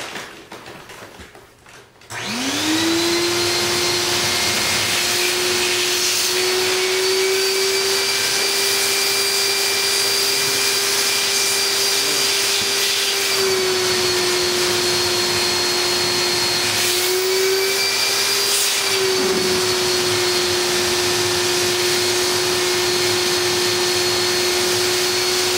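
A vacuum sucks air out of a food storage bag sealed inside a 5-gallon bucket with an oxygen absorber, a steady loud whining drone running nearly the whole time after a brief quiet start, with slight pitch dips near the end.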